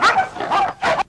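Hunting dogs barking at a hog cornered against a truck, three loud close barks in quick succession with yelping tone.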